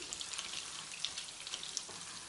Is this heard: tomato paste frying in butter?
yes